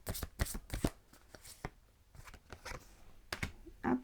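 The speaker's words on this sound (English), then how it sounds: "Let's take Belinda Grace Love Oracle cards for lovely Sagittarius" Oracle cards from a love-themed deck being shuffled by hand for a Sagittarius reading, a series of quick riffling bursts and soft card slaps, close and fairly quiet, with no talking.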